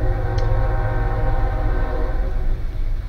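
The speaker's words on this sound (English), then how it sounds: "I just had to click record as soon as the damn train went by." A train passes close by with a loud, continuous rumble and rattle throughout, plus a brief high horn or whistle note early on.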